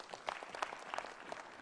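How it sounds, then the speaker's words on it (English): A faint, brief burst of applause rises from an audience honouring the President at a luncheon for Ugandan medalists, soft and distant with scattered claps. "Let's clap for the President."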